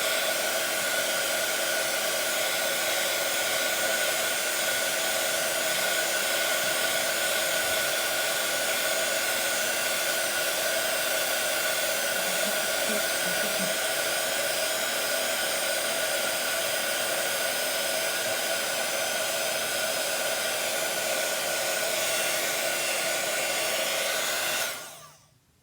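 An electric heat tool blows continuously at close range to melt gold embossing powder on a handmade Christmas junk journal cover, a steady loud whooshing hum that holds for about 25 seconds before switching off abruptly at the end.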